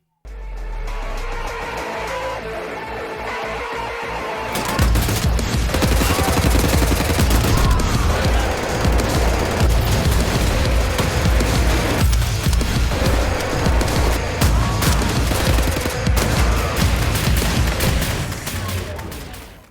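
Dense, relentless gunfire from the first-person shooter Wolfenstein: The New Order bursts in after a quieter opening, with rapid automatic bursts and loud shots layered over game noise and continuing at full intensity.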